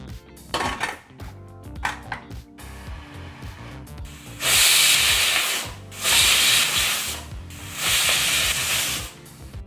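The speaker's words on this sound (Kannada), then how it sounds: "ನಾವೀಗ ಕುಕ್ಕರ್ನ 3 ವಿಸಲ್ಲು ಕೂಗಿಸ್ಕೋಬೇಕಾಗತ್ತೆ." A stovetop pressure cooker of moong dal for ghee Mysore pak vents steam: light clatter of pots, then three loud, sustained hissing bursts, each a couple of seconds long, close by with no talking.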